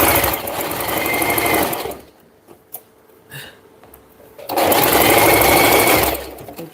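A sewing machine stitches fabric in two loud, fast-rattling bursts, with a quiet pause between them holding a few clicks and knocks, close to the listener.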